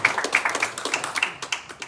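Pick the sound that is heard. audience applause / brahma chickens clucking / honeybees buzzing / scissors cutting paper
audience applause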